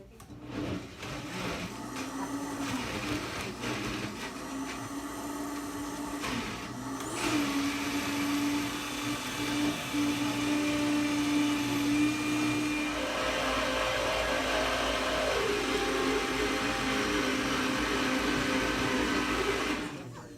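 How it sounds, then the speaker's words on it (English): A 20-year-old Vitamix blender whirs steadily as it purees vegan chocolate pudding with coconut oil, its motor loud and continuous, shifting to a higher, harder pitch partway through before running on to the end without speech. "You said that blender's 20 years old."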